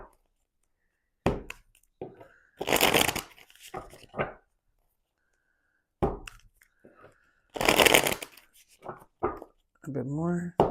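Tarot cards are shuffled in several short crisp riffling bursts, close and clear, with pauses and small handling clicks between them and a brief voice near the end.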